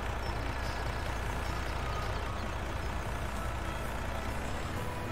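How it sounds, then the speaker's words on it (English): A Cummins diesel truck engine in Farming Simulator 17 gives a steady low rumble that holds at an even level throughout, with a faint high tone above it. "There's nothing better than a Cummins diesel that is rolling coal."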